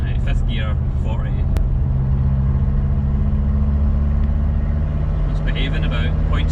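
Mitsubishi L200 K74 pickup diesel engine pulling steadily in fifth gear at about 40 with an aftermarket boost controller, a loud continuous low drone from close by, with a voice speaking over it in places.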